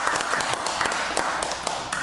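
An audience at a Korean Monday evening lecture claps steadily to welcome the speaker onstage, a dense, even patter of many hands close by with no talking over it.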